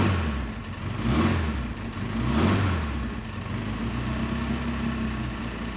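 A car engine revs in two rising and falling swells, then settles into a steady running drone, heard fairly close without talk.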